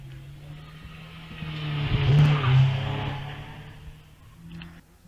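A Caterham 7 launches off the line at the Wiscombe Park hillclimb, its engine note swelling to a loud peak as it pulls away, then fading into the distance.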